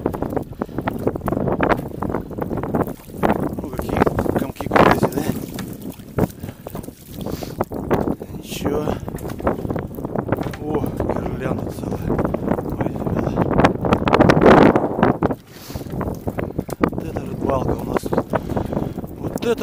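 Gusty wind buffets and roars across the microphone on a fishing boat on the White Sea, with intermittent talking and soft splashing underneath.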